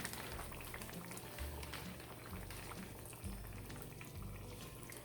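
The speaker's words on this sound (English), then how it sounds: "I'm just cooking 2 pieces at a time because I don't want to pull down my pan too much." Breaded Chick-fil-A copycat chicken pieces, two at a time, fry in hot oil in a pan, giving a steady, dense bubbling sizzle that holds at an even level throughout with no talking.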